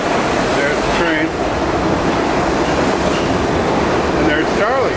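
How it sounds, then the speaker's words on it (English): A New York subway train arrives at a station with a loud, steady rumble and rushing roar that fills the whole clip, and faint squeals rise briefly over it. "There's the train."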